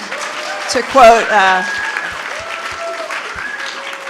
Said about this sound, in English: thank you, applaud. Please clap.